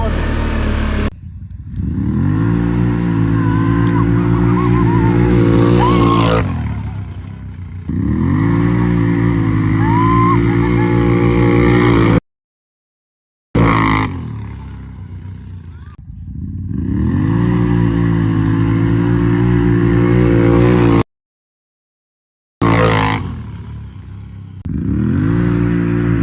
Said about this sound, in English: what happened when I line it up against Dan's brand new 2024 Renegade 1000